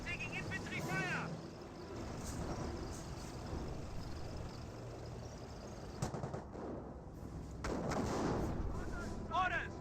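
Infantry gunfire and artillery in a Company of Heroes match, with rattling bursts, dull thuds and crackling battle noise layered over each other, mixed with clipped in-game voice callouts throughout.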